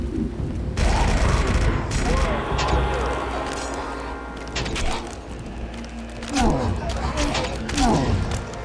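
Bursts of turret gunfire ring out in the Star Wars: Republic Commando video game, with sharp repeated shots in clusters over a busy battle din while voices talk over it.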